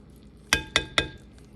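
Three sharp metallic clinks of a spoon against a pot while aviyal is stirred with coconut oil and curry leaves, evenly spaced and close, in an otherwise quiet kitchen.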